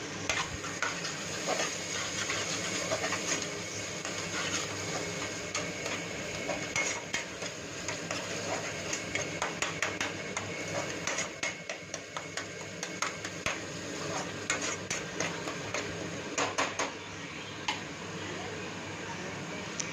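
Asafoetida sautéing in a pan for tomato rasam, a faint steady sizzle with irregular spoon-and-pan clicks and taps throughout, close but quiet.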